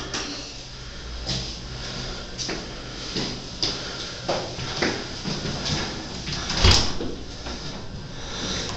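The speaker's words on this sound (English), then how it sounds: "And this is the door out." Elevator door opening or closing at a parking deck, with a Westinghouse elevator; several muffled door thumps and rattles recur over a steady background hum, ending in a sharper bang.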